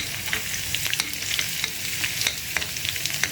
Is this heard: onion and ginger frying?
yes